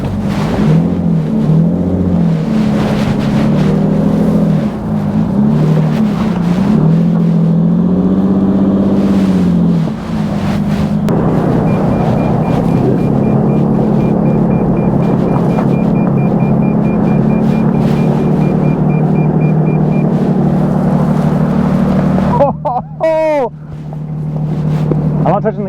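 A Toyota Sequoia TRD Pro reverses off-road on a hill in 4 high with MTS engaged. A steady, low engine rumble runs throughout with wind buffeting, then a brief sharp squeal comes near the end.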